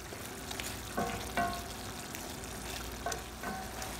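Pork binagoongan with cooked shrimp paste and ground pepper frying in a pan, a steady close sizzle with a few soft stirring scrapes and clinks of the utensil against the pan, no talk.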